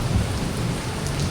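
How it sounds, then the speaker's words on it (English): Heavy rain shower pouring down steadily outdoors, a dense continuous hiss with low rumbling underneath, loud and unbroken throughout. "that was a really strong rain shower"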